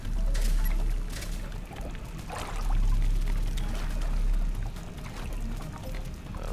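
Water pours and splashes in the physics puzzle game Puddle, a loud continuous gushing that swells and eases in waves, with trickling between the surges and no talk.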